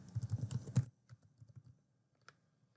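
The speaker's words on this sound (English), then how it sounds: "So I'm going to type in my new password," A new password is typed on a computer keyboard: a quick run of clicking keystrokes, then a slower scattering of taps, a pause, and one final key press, all close and quiet.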